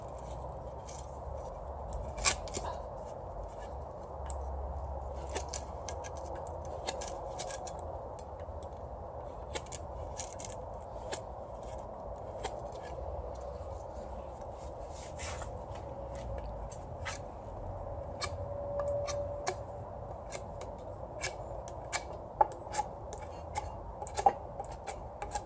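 A blade shaving and cutting at the wooden handle of a soil tamper during a repair, heard as soft, close, irregular scraping and clicking cuts over a steady low background hum, with no speech.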